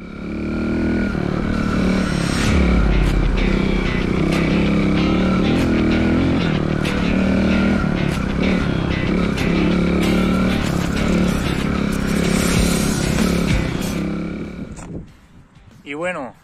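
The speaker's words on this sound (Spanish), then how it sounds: "ya he podido salir a disfrutar de mi moto" A Montesa 4RT trial motorcycle's engine runs loudly and steadily with small rises in revs, then drops away near the end, while a person talks over it.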